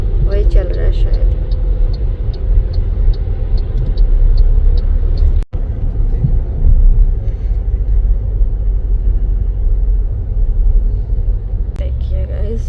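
Busy evening road traffic in Dubai near the Burj Khalifa, a steady low rumble of cars and engines throughout, with people talking over it and a brief dropout midway.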